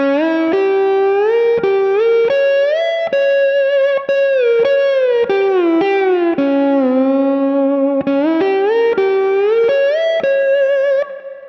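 Sliding electric guitar notes stepping through a run of separated minor-third intervals, played one at a time with a processed, slightly overdriven tone and a continuous sustain.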